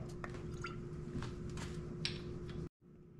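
A teaspoon of soy sauce, poured by eye into a mixing bowl for Salisbury steak: soft close drips and squishy wet sounds in a quiet room, ending in a brief cut to silence.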